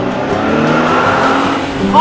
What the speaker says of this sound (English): you found a car!